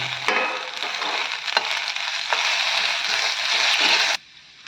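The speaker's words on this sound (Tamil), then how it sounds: "கருவேப்பிலை, கொத்தமல்லி தழை சும்மா லைட்டாக அப்படி வணக்கிங்க" Loud sizzling of chopped curry leaves and coriander leaves frying in a hot pan, with a few stirring clanks, cutting off abruptly near the end.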